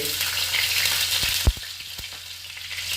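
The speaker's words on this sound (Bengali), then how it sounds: "রসুন কুচিটিকে ভালোভাবে ভেজে নেওয়া হচ্ছে" Two tablespoons of chopped garlic frying in rice bran oil in a nonstick wok, a loud steady close sizzle with a few sharp knocks of a spatula midway, no voices.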